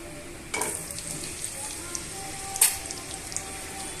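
Potatoes, onion and green chillies frying in a pan, a quiet steady sizzle with a few soft stirring clinks and scrapes.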